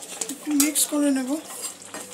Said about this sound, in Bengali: একটু মিক্স করে নেব।